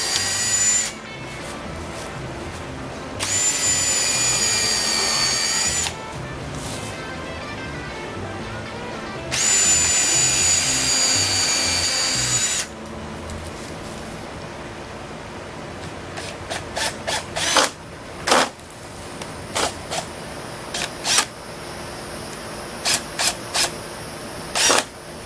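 A power drill drives screws into plywood on a kiteboard rocker and concave former, with two long whirring bursts followed by a run of sharp clicks and knocks.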